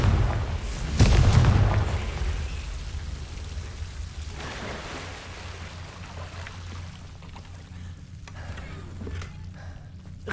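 A Confringo explosion spell in Hogwarts Legacy bursts as one loud blast with a rumbling tail, then fades into a long, softer stretch of game ambience.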